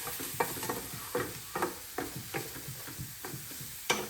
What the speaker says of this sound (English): give that a stir, and then I'm gonna add my beef back in